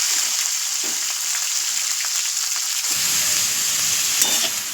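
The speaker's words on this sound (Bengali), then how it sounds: "এবারে সব একে একে তুলে, যে কড়াই তেল দিয়ে দিয়েছি দেখো, একে একে তুলে কড়ার মধ্যে। বাবা যা আওয়াজ!" Loud, steady sizzling of vegetables frying in hot oil in a kadai, a dense crackling hiss that continues without pause, close up.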